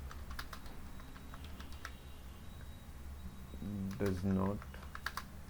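Computer keyboard typing while writing Java code, soft rapid key clicks in scattered bursts under a man's speech.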